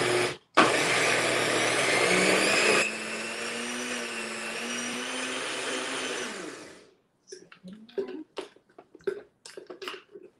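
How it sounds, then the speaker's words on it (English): A blender whirs loudly through peanut butter and ice, a steady high roar lasting several seconds that changes pitch partway, then winds down, followed by scattered clattering and handling noises. "Just throw it on the blender."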